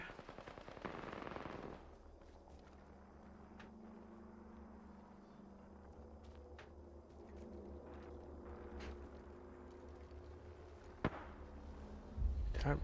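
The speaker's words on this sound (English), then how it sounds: "Did he just shoot at something?" Gunfire in a shooter video game: a rattling burst of rapid shots opens the clip, then ambient battlefield hum follows, with a sharp single crack late and a final burst close at the end.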